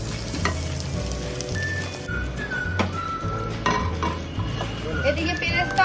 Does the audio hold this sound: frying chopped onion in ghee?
yes